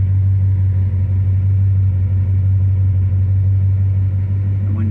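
A hot 1970 Dodge Super Bee with a 383 V8 and four-speed idles with a loud, steady low rumble, unbroken and close, with no voices over it.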